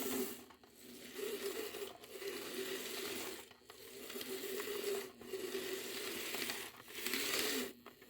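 A small stock electric motor runs steadily with a faint commutator whine, its even hum briefly dipping at regular intervals; no one speaks.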